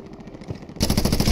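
Rapid automatic gunfire in a video game, starting abruptly and rattling loud and close in a quick burst with no talk.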